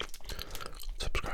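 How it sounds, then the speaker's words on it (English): Close, wet gum chewing with rhythmic smacks and clicks, loud and intimate in a quiet whispered ASMR setting. "There are certainly people who hate the gum chewing"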